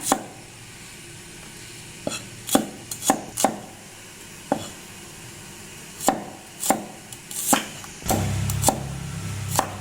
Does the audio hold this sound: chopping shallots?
yes